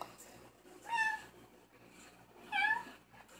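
A voice imitates a cat, giving two short, high mewing meows about a second and a half apart, fairly close over a quiet room.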